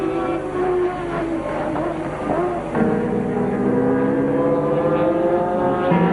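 A 1983 Ferrari Formula One car racing to the finish at the Montreal Grand Prix, high-pitched engine wailing and shifting up, loud with crowd and circuit ambience, a commentator talking over it.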